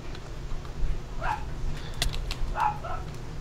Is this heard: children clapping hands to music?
no